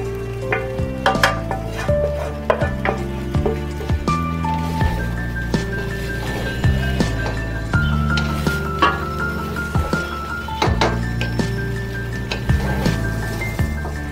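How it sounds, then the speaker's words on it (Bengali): Cooked rice being mixed with vegetables in a pan for vegetable fried rice gives repeated scraping, stirring and light sizzling, close and steady, with tonal background music running throughout. "সবজিগুলো এখন রাইসের সাথে মিশিয়ে নিচ্ছি।"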